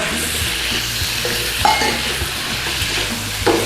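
Onions and peppers sizzle steadily in a stir-fry pan alongside pork liver, a constant hiss with a few light clinks of a utensil against the pan.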